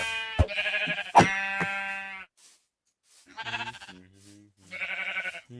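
Sheep bleating in a video game: a few drawn-out, wavering bleats, close and clear, separated by short silences, with a couple of sharp clicks or thumps near the start.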